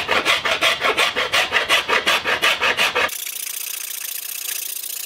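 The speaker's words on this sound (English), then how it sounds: "I'm going to take a file and I'm going to smooth out this back side of my bow" A file rasps across the back of a wooden bow in about a dozen quick, even back-and-forth strokes, loud and close, then stops abruptly, leaving only faint room hiss for the last two seconds.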